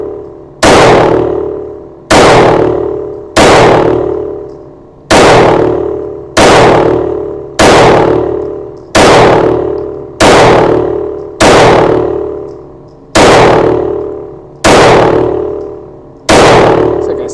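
Palmetto State Armory Micro Dagger pistol firing +P 68 grain rounds, with a dozen loud, sharp shots at a steady pace roughly 1.3 seconds apart, each followed by a short decaying ring.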